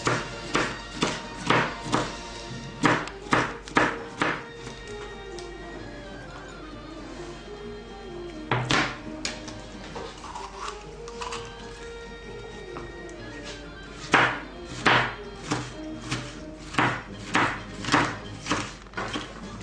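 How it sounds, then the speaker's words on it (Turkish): A knife finely chops halved, seeded bell peppers on a board in a home kitchen, giving bursts of quick, crisp taps, several in a row, then pauses and more rapid runs, close and fairly quiet. "Çekirdeklerini çıkardıktan sonra ortadan ikiye kesiyoruz ve ince bir şekilde kıyıyoruz."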